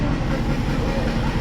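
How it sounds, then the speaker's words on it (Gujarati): A moving train rattling along, heard from inside the carriage as a steady low rumble with rhythmic clattering, continuous and fairly loud. "ટ્રેન ચાલુ થઈ ગઈ"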